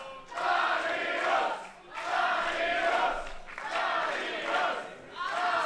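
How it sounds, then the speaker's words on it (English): A sold-out wrestling crowd in a community hall in Lanzenkirchen cheers and chants in loud, rhythmic surges, the roars rising and falling in repeated waves. "Fans here, a sold-out crowd, remember, at the community hall in Lanzenkirchen, firmly behind Darius"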